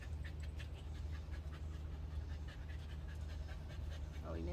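Oreo, a small dog, pants quickly and rhythmically after running around a garden, a faint, steady series of breathy huffs over a low background hum.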